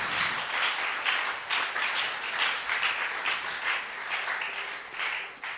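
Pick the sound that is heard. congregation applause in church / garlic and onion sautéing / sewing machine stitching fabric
congregation applause in church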